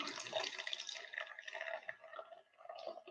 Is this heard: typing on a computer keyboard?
no